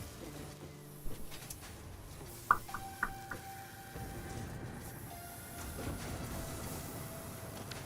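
A train runs in the factory-building game Satisfactory, a steady low rolling rumble with a few sharp metallic clanks and a long sustained tone, no talking.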